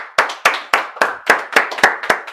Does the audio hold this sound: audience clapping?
yes